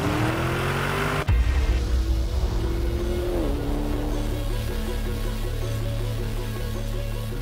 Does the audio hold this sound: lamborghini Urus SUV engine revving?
yes